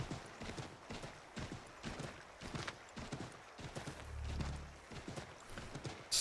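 Horse hooves clip-clop in a steady walking rhythm, with occasional snorting, over a dense soundscape in the video game Assassin's Creed 3.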